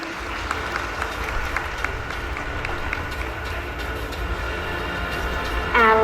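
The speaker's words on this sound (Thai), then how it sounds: "ขอเสียงปรบมือด้วยค่ะ" An audience claps at a Bosch Rexroth grand opening ceremony in Thailand, producing a continuous, dense wash of applause across the whole stretch.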